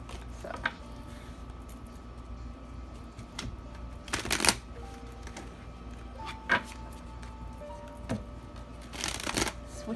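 Tarot cards shuffled in repeated riffling bursts with soft sliding and tapping between, close and moderately loud, no talking.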